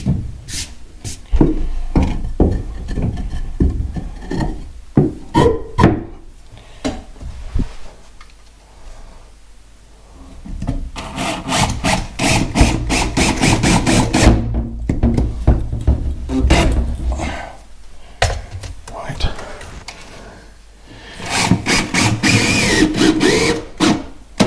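Concrete screws are driven while fitting a bath, giving bursts of loud buzzing whirr from a power driver with clicks and knocks between runs, close and alone.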